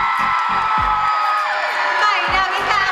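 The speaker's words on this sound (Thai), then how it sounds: "ขอเสียงปรบมือต้อนรับ" Audience applause and cheering welcome an actor onstage at a Thai interview event for the drama My Ambulance, with loud whoops and crowd noise above steady clapping, while a host's amplified voice cuts in with bursts of speech.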